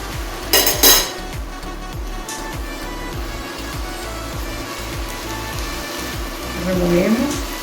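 Empanada filling being stirred in a sizzling pan, steady frying hiss with a rhythmic series of soft scraping strokes and a clatter near the start, close and loud, with a voice briefly at the end.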